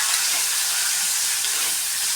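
Bitter gourd, rubbed with salt and washed, sautés in a pan, giving a steady bright sizzle and hiss that holds without a break, close by and with no talking.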